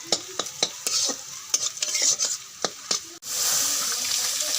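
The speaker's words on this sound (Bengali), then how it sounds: "আমার পেঁয়াজটি ভাজা ভাজা হয়ে গেছে।" Onions frying in oil with dried red chillies and whole spices in a pan, a steady close sizzle broken by sharp clicks of stirring that give way to a louder continuous hiss at the end.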